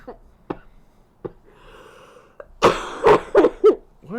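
A few soft coughs and breaths, then several loud, close coughs in quick succession near the end.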